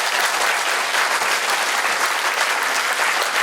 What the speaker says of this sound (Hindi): चलो सब लोग एक बार अपने लिए ताली बजाओ, अच्छे से, जोर से